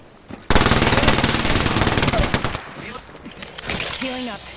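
Sustained automatic gunfire in Apex Legends, a loud close rattling stream of rapid shots lasting about two seconds, then scattered bursts and game effect tones follow.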